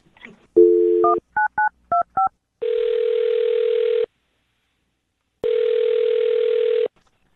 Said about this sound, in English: I'm dialing his phone number right now.